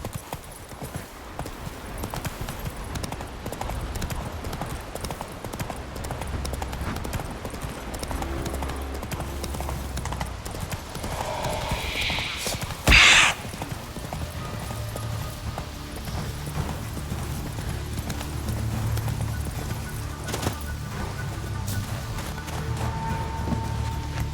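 Roach the horse gallops in The Witcher 3, steady rapid hoofbeats running throughout with a brief sharper burst midway.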